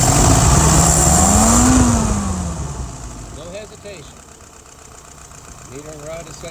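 An engine with a YF 738S carburetor is cranked over: a loud running drone fades away, then two short, rhythmic cranking bursts turn the engine over a couple of times.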